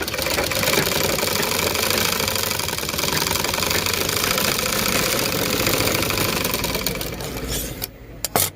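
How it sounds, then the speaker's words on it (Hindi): Sewing machine stitching through thick fabric, a steady loud mechanical chatter of needle strokes running continuously before slowing and stopping near the end, with no talking. "देखें यहाँ पर भी सिलाई एकदम सही चल रही है, कोई दिक्कत नहीं, एकदम एक एक टाँका सही भर रही है।"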